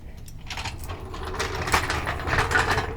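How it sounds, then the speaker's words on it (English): A jack lowers a car's axle down onto a jack stand, giving a close, continuous mechanical ratcheting and clicking rattle with scraping metal that builds slightly louder toward the end, with no voices. "There's that jack stand, and I can lower the axle now."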